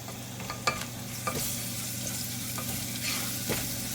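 Ginger paste is stirred into frying masala for haleem, giving a soft, continuous sizzle with occasional scraping stirs against the pan.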